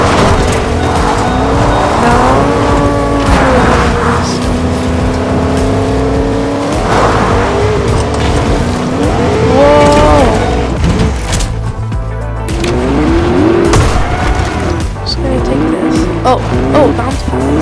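A car in the Fortnite video game drives with a revving engine and repeated tire skids and squeals, loud and continuous throughout, with game sounds layered over it.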